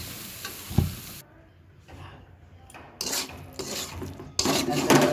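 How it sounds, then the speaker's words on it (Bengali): A gas stove with a fault gives off rough, hissing bursts while ghotok kochu shak (taro leaves) cooks, loud near the start, nearly silent midway, then returning as stronger broadband rushes toward the end. "চুলাতে একটু প্রবলেম হয়েছে শব্দ করে"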